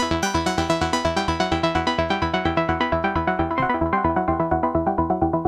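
An old school trance sequencer patch from the IONA synth running on an MPC plays a fast, relentless synth arpeggio in even sixteenth steps, bright and full, with no voices over it.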